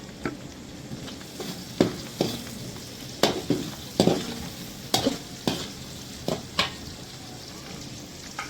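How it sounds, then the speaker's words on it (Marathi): Onion and green chilli fry in a pan on a wood-fired clay stove, a continuous crackling sizzle broken by sharp, evenly spaced scraping stirs from a spoon. "कांदे आणि मिरची छान झाले आहे."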